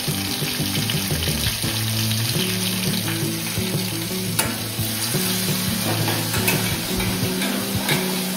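Whole spices and fennel seeds hit hot oil in a home kitchen, producing a loud continuous sizzle and crackle with a few stirring clinks throughout, no speech.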